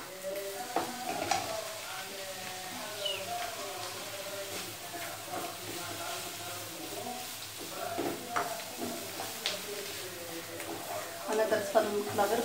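Dried meat (gueddid) sizzling and browning in a frying pan, with a steady crackling hiss and the occasional scrape of stirring, heard close under a speaking voice.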